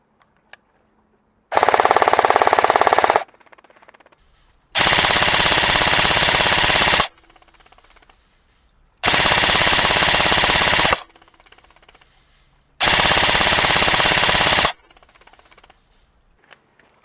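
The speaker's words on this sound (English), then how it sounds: "nice big burst of some Novritsch firepower downrange, see what it's hitting" A Novritsch SSR249 airsoft light machine gun fires four long, sustained full-auto bursts downrange outdoors, each a loud buzzing rattle of about two seconds separated by quiet pauses.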